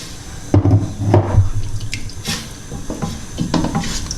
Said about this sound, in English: I've just added a little bit of hot water into the actual containers themselves, just to swill them out